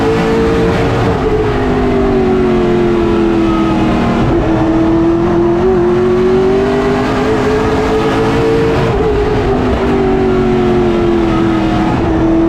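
Stock race cars race in a pack around the short track at Hickory in a playoff round, engines droning loud and steady. The pitch rises and falls as the cars roar through the corners and down the straights.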